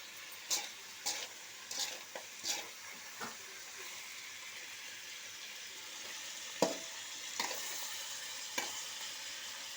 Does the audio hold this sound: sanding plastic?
no